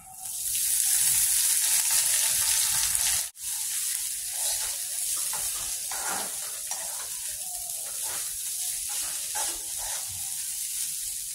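Spice powder with asafoetida sizzles in a hot oil tempering for a coconut and chana dal dish, a loud steady hiss of frying that briefly cuts out, then continues slightly softer with stirring sounds; no voices.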